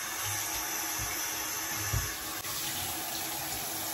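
Tap water runs steadily as hands are rinsed under a faucet, a constant close hiss of flowing water with a few soft splashes and no voices.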